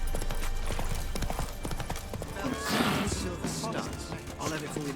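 A horse trots in The Witcher 3, its hooves clip-clopping in a steady rhythm, moderately loud, with a voice speaking over part of it.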